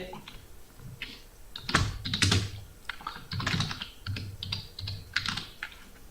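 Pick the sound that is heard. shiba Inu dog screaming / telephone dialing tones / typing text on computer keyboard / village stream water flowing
typing text on computer keyboard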